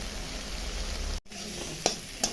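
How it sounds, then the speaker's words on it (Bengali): Spices and tomato being sautéed in a pan give a continuous close sizzle, broken by a brief gap and a couple of sharp spoon knocks near the end. "টমেটোটা দিয়ে দিচ্ছি, এখন গলে যাবে, মশলা কষাতে কষাতে আর টমেটো আমার সেদ্ধ হয়ে যাবে। মশলাটা কষুক।"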